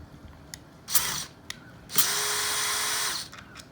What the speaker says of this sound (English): I want to remove all the small screws here